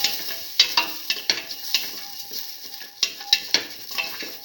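Green chillies and salt sautéing with garlic in a pan for a black lentil stew, an even sizzle broken by repeated scraping strokes and sharp clinks of a spoon against the metal, close up.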